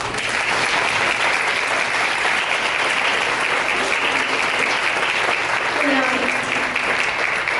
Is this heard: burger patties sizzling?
no